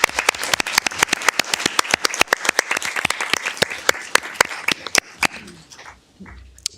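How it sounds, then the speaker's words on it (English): An audience at a city council meeting applauds steadily, with sharp individual claps standing out over a dense wash of clapping that thins and fades over the final seconds. "So I'd like to take this moment to really give them a special round of applause."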